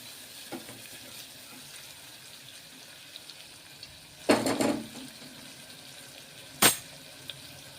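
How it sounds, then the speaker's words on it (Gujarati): Water boils in a pot before biryani rice goes in: a faint, steady bubbling hiss, broken by two short louder clatters near the end. "આપણું પાણી ઉકળી ગયું છે."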